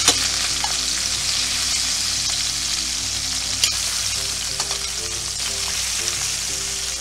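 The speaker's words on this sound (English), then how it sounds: "We're gonna let these sear for 2 minutes, and then we'll turn them." Beef back ribs sear in a tagine with a steady, loud broadband sizzle that runs unbroken throughout, broken only by a few faint clicks and scrapes.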